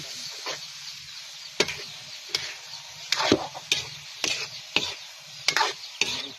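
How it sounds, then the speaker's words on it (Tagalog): Egg stirred into bitter melon frying in a pan gives sharp, close utensil scrapes and clicks at a loose, uneven rhythm over a soft background sizzle, with no voices. "Lagyan natin itong ating itlog. Ayan, di ba? Halo-haloin natin."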